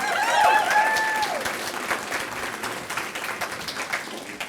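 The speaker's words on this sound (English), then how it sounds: "give them a round of applause for that." Applause fills a room at an elementary school's 50th anniversary celebration, steady dense clapping from a sizable crowd throughout, with a voice rising over it near the start.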